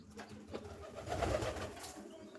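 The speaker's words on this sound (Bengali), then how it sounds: "এই যে কবুতর চলে এলো" Pigeons nesting in a building give a soft, low cooing that swells briefly in the middle, quiet and fairly close.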